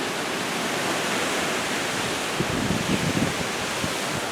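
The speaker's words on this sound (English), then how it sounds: "Yeah, getting windy." Hurricane Dorian's wind and surf roar as a steady, dense wash of noise, loud and unbroken, with slightly stronger low gusts buffeting the microphone midway.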